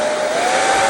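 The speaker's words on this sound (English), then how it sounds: "then you just take your blow dryer" Hair dryer blowing hot air to heat and shrink plastic weathersheet film on a Lada VAZ 2101-2107 window, a steady, close, loud airy hiss with a whining tone held throughout, no talk.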